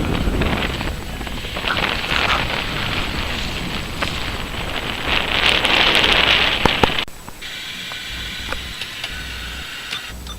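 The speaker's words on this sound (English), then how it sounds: "And we are leaving Florianopolis under the rain." Rain falls steadily on the boat while it leaves Florianopolis, a dense hiss with scattered sharper drop taps, loud at first and then easing after a sudden drop in level.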